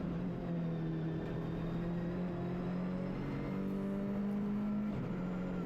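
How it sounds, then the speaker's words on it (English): A Citroën C3 Rally 2 rally car on a Belgian rally stage, its engine droning steadily as the pitch climbs and shifts through gears, heard from inside or close by with no speech. "Driving the Citroën C3 Rally 2 for the first time."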